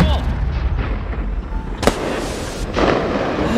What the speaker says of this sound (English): it's just fireworks, but yeah, it's pretty fun